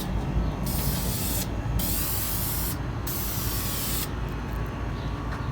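Spray paint applied in four rapid hissing bursts with short gaps between them as a first coat goes onto a Mazda Miata NB valve cover in a garage, close and steady.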